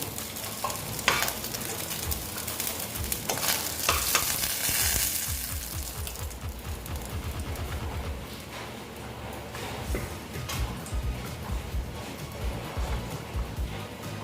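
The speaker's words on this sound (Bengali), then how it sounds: "এই মাছগুলো প্রায় ভাজা হয়ে গেছে দেখো কড়া করে ভাজলাম" Tangra fish being deep-fried and stirred in hot oil in a Bengali kitchen, giving a loud, continuous sizzle with rhythmic scraping and clacking of a spatula against the pan, busiest early on and settling into a steadier crackle.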